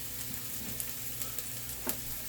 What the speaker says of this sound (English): Stir those shallots around.